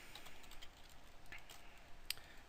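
Keys clatter in quick, uneven bursts on a computer keyboard, a soft close-up tapping with one sharper click near the end, quiet and without talk.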